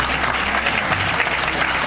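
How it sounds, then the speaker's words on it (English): A church congregation claps hands in praise during a Sunday service, dense continuous applause from many people, loud and steady with no break for the whole stretch. "Can you give God a hand clap of praise?"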